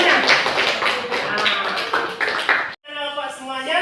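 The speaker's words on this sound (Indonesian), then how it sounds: "Tepuk tangan semuanya." A classroom of students claps together during an Islamic religious education lesson, a dense burst of applause for a few seconds that cuts off abruptly, followed by a brief tonal sound.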